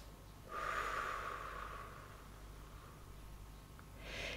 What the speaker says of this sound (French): tu souffles tout doucement par la bouche en relâchant tous tes muscles